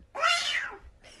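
A single drawn-out cat meow, close and clear, with a brief softer sound right after; likely a human voice imitating a cat.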